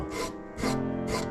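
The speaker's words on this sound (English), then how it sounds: "abrade that top portion of the felt off relatively quickly and unite the two sides" A file rasps felt off the top of a piano hammer in three firm, rhythmic strokes, each a close, breathy scraping rub with brief pauses between.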